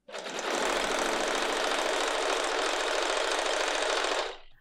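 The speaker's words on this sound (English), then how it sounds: "next I'm gonna sew this yellow strip on this side of my fabric" A sewing machine runs a seam on a yellow fabric strip for an improvised scrap clutch, a fast, even, continuous whir heard alone that starts abruptly and winds down after about four seconds.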